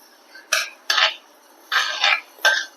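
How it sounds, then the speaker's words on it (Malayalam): Lentils roasting in a pan for payasam are stirred with a metal spoon, five distinct scraping strokes in an uneven rhythm against quiet, close and clear. "പരിപ്പ് ഇളക്കിക്കൊണ്ട് തന്നെ ഇരിക്കണം"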